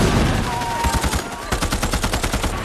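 Battle gunfire from the war film We Were Soldiers: rapid volleys of rifle and machine-gun shots crackle in dense bursts over a heavy rumbling background, loud and continuous.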